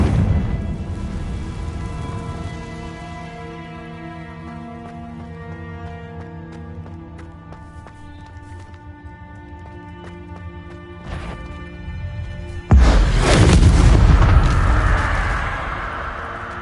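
A Confringo explosive spell from the video game Hogwarts Legacy goes off as a sudden, loud blast near the end, after sustained orchestral music, then fades as a roaring rumble.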